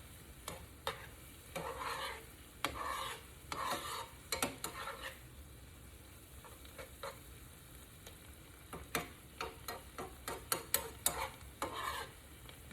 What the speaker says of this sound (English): Let that continue, the butter continue to melt and cook these vegetables.